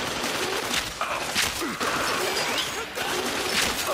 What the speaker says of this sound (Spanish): No puedo fallar el disparo.